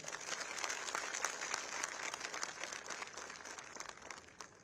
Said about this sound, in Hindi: एक बार मोदी जी के नाम पे जोरदार तालियां।